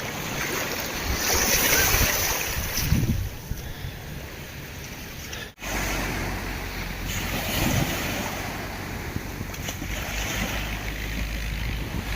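A boat moves on open sea water off Ponta do Ouro beach, Mozambique: a steady wash of waves and gusting wind, with no one talking.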